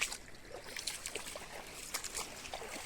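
Water pours through a burst opening in a farm irrigation channel, washing the earthen bank away in a continuous, close gushing and sloshing rush.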